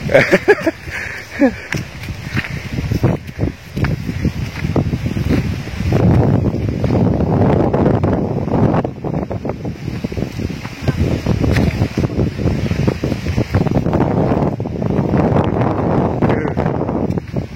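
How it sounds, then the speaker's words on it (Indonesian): Cool wind buffets the microphone outdoors on a hillside path at the Batu Banteng site in Kajar, Lasem, a loud, gusty rush that swells and fades, with intermittent talk. "Anginnya sejuk banget"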